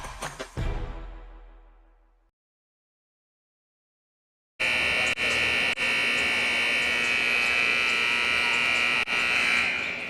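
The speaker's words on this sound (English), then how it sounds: "Long buzzer there as we return back from the break." A long basketball game buzzer sounds in a gym during a high school girls and boys doubleheader: an earlier tone fades to silence, then a loud, sustained electronic buzz holds steadily for several seconds.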